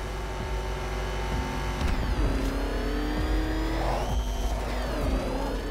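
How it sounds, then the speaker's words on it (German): A rattly car engine racing in Batman: Arkham Knight, droning loudly and continuously with rising and falling revs and shifting gear pitches throughout, with no talk over it. "Ob der klapprige Motor das wohl hinkriegt?"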